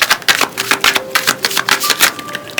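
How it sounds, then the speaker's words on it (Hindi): Tarot cards being shuffled by hand, a close, loud series of quick crisp riffling snaps and clacks with no talk. "मैं शफल कर रही हूँ आपके सामने।"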